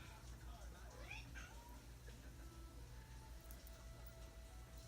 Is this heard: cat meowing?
yes